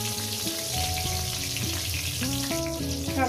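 Eggplant pieces fry in hot oil in a pan, giving a steady close sizzle that runs throughout with no talking, while soft background music plays underneath.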